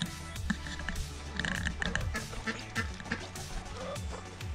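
A single farm duck quacks in a run of short, raspy calls near by, mixed with clattering and other busy background noise around its pen, water pool and house.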